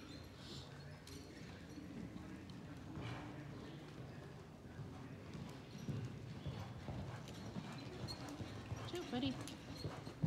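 Hoofbeats of a 15.2-hand Morgan mare cantering along the rail of an arena, a steady rolling rhythm close by under a rider's or trainer's talk.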